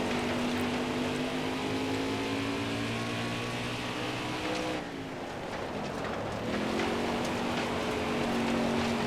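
NASCAR race car engines on the final lap in NASCAR Heat 4: a loud, sustained engine drone with a steady pitch that dips briefly midway, then rises and holds again.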